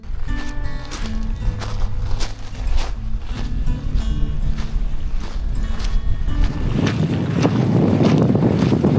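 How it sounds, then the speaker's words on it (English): Strong wind gusting across a Scottish loch under grey, dark skies, a loud steady roar of buffeting microphone noise that builds and thickens toward the end, with low rumbling throughout. "Wind's picking up now."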